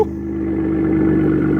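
Turbo spool and exhaust rumble from a Ford F-150 with the 3.5 EcoBoost engine and an AWE exhaust, a steady loud drone that builds slightly as the truck accelerates, heard close up with no talking.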